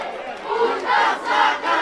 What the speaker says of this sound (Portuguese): E a torcida do Flamengo revoltada.